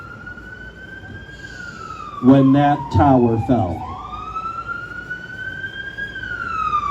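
Emergency vehicle sirens from Yonkers first responders wail in rising and falling sweeps, fairly close and steady, while a person speaks briefly over them partway through.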